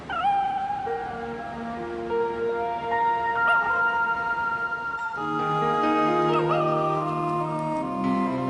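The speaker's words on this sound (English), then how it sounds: "It's a little lost puppy." A lost puppy whimpers with high, wavering whines, several drawn-out cries repeating close by and alone over a faint background hum.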